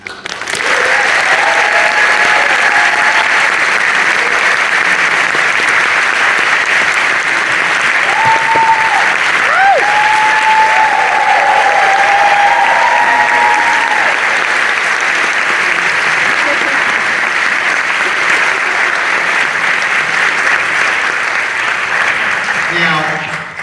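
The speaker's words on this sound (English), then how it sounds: "by round of applause, how many long time Wallace and Gromit fans do we have" A live audience at a Wallace and Gromit: Vengeance Most Fowl event with directors Nick Park and Merlin Crossingham bursts into loud, sustained applause lasting over twenty seconds, with some cheering voices mixed in.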